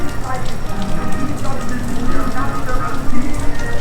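Heavy rain pours in a dense, constant hiss of drops hitting surfaces, close and loud throughout.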